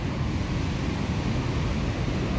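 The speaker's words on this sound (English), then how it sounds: "So this is the American waterfalls." The American Falls at Niagara, a steady broadband roar of falling water heard from a distance, continuous and unbroken with some wind rush mixed in.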